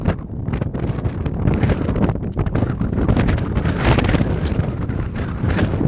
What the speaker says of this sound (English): It's very windy up there.